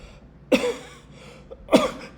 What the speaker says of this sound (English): Hey, I'm starting to cough.